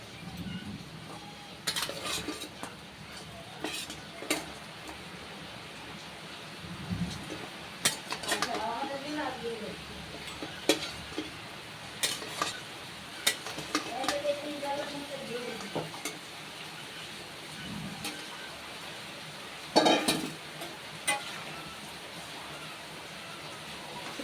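Fried boal fish heads go into a boiling curry broth for kata chochori, bringing soft sizzling and bubbling along with intermittent clinks and scrapes of a utensil against the pot.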